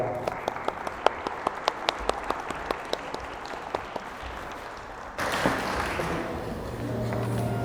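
Steady applause from a wedding crowd welcoming the bride's father, with a few sharper individual claps standing out at first, then the clapping swells and grows denser and louder toward the end.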